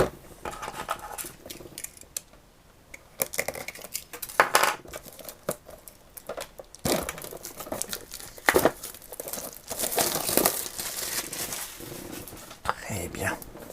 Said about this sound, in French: Bien, on va déballer.